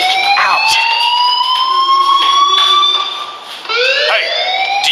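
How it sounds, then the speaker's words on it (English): A fire alarm sounds loudly and continuously with a wailing, rising electronic tone that briefly dips and restarts near the end. "Hey, do you hear that fire alarm?"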